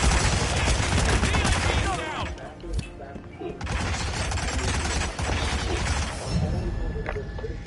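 Rapid gunfire in Hitman 2, loud bursts of shots and crackling impacts that drop out briefly mid-way and then resume, with voices speaking under the shooting.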